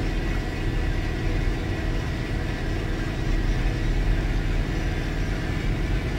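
A new John Deere 6135E tractor drives at just under 20 mph, its engine a steady, loud low drone mixed with broadband road and wind rumble, continuous and unchanging.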